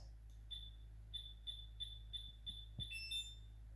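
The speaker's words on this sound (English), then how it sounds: "The lock will read the key card, signal a new beep, and then fall silent." An electronic cabinet lock gives a run of short, bright beeps at an even pace as a key card is held against it, followed by a quicker cluster of tones, close and clear in a quiet room.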